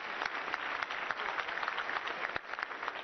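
A church congregation claps their hands during a Sunday service, a continuous dense wash of many hands clapping at an even, moderate level with scattered louder claps.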